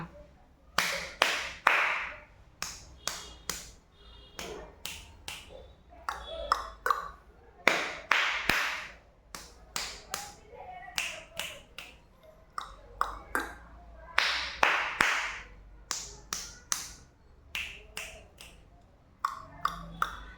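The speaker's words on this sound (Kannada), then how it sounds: "ಇದು ನಲಿಕಲಿ ಚಪ್ಪಾಳೆ ಸ್ನೇಹಿತರೆ." A Nalikali classroom clapping pattern: crisp, close hand claps in rhythmic bursts of several quick claps, separated by short pauses and repeated many times.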